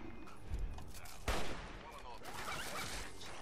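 Gunfire from the video game Fallout 3, set at the National Archives in downtown Washington DC: a sharp, loud burst of shots stands out over steady background game noise, with people talking around it.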